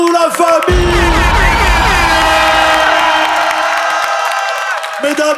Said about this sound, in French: Mesdames et messieurs, ne vous arrêtez pas d'applaudir. Faites un maximum de bruit pour nos 5 MC.